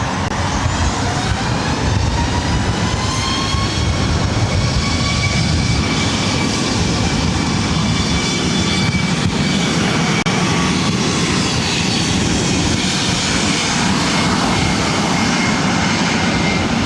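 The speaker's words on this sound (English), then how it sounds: "This is WestJet 1315 taking off to Winnipeg on a MAX 8." A WestJet Boeing 737 MAX 8 jet takes off from runway 24 right at Los Angeles airport, a loud, steady, broadband engine roar with rising whining tones, sustained throughout with no voices.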